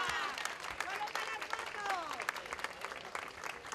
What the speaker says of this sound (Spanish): la Virgen sale del santuario entre aplausos